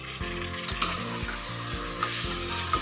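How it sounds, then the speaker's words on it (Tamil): Tomatoes sizzle and crackle in hot masala frying for chicken biryani, a steady close hiss with rhythmic stirring scrapes, no talking. "ஸோ இப்போ தக்காளி வதங்கிறதுக்காக கொஞ்சம் வந்து ஆட் பண்ணிக்கலாம்."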